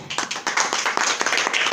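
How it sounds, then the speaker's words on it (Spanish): An audience at a family celebration claps together in quick rhythmic applause, fairly loud and close, with many hands striking in a brisk, continuous patter. "Fuerte el aplauso para ella."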